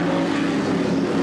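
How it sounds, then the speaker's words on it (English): Chevrolet Camaro race cars at Pocono in 1981 IMSA Kelly American Challenge racing, their engines a loud, continuous droning roar that holds steady over a brief moment as the pack approaches. "The Camaros are coming. The Camaros are coming."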